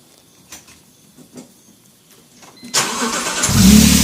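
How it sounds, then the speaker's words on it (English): A BMW E46 engine, newly installed, idles faintly at first, then bursts into a loud, sustained rev as it strains to free a stuck parking brake, growing louder toward the end. "He's trying to break the parking brake loose."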